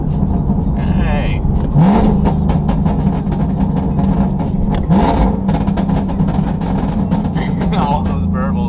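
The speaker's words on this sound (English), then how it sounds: "I wanted to show some rev matches" A car engine revs up and drops back during rev-matched downshifts while leaving a highway, with burbling exhaust rumble under near, ongoing talk.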